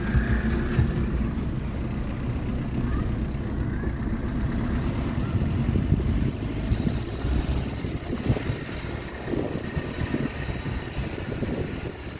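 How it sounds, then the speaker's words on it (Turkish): A city bus approaching along a road near a picnic area in Ankara, a low engine rumble and road noise heard from inside a moving car amid wind buffeting, growing somewhat louder toward the end. "Bak otobüs geliyor."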